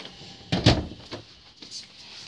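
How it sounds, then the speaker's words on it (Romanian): A door is pushed shut with one solid thump, followed by a few fainter knocks and rattles, heard close during a fishing session. "Stați puțin să închid ușa."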